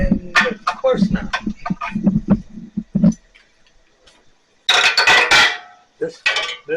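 A 13/16 socket clinks and scrapes against the metal of a Generac 7000 EXL generator in a series of close, sharp metallic taps, followed by a pause and then a louder rattling burst.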